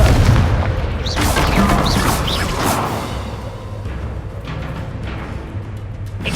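Booming blasting-spell explosions from the Hogwarts Legacy video game, a loud burst up front followed by whooshing magical impacts and rumbling blasts that fade over several seconds.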